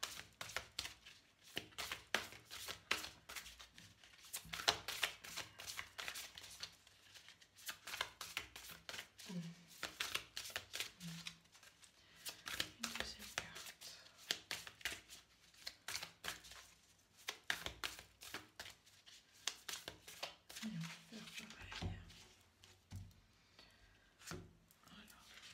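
Oracle cards are handled and drawn, giving a run of soft, quick shuffling and tapping clicks in irregular bursts, close and fairly faint, interrupted by short pauses.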